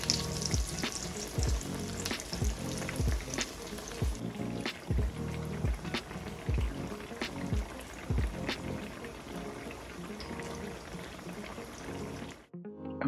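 Eggplant slices fry in hot oil in a pan, a steady close sizzle broken by clinks and thumps as slices go in and get turned, then cutting off abruptly near the end.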